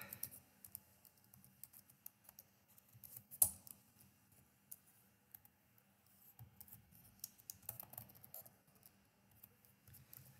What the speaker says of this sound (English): Type in my date.